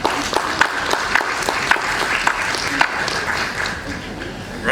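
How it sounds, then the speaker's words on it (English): Audience applause following a speech at an opening ceremony for a World Soil Day celebration, a steady wash of many hands clapping through the whole stretch, fairly close and dense, with a few sharper claps standing out. "Round of applause for him."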